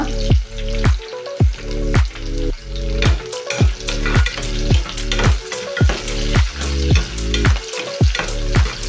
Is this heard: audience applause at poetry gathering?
no